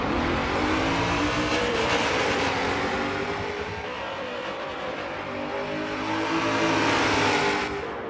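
BMW M5 in Forza Motorsport 7 racing around Hockenheim, its engine roaring continuously at high revs with the pitch climbing and dipping through gear changes, loud and up close, with no one speaking.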